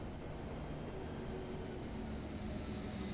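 A jet engine drone from the Flight FX Citation in a flight simulator, a faint, steady whooshing hum with a thin tonal whine, continuous and unbroken with no speech.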